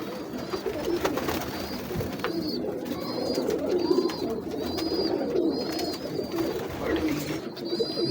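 Teddy breeder pigeons coo repeatedly in a loft, soft throaty calls recurring every second or so at moderate distance over a busy background murmur.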